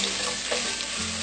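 Crushed ginger, garlic, cardamom and whole spices such as cloves and star anise frying in ghee give off a steady, close sizzle with a faint low hum underneath.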